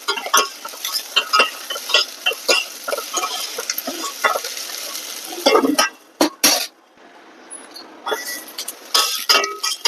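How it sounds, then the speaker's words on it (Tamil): Onions sautéing in a hot pan, with a steady close sizzle broken by frequent scraping stirs and clinks of a spatula against metal, briefly pausing near the end before the stirring resumes. "வெங்காயம் வதங்கிடுச்சுங்க."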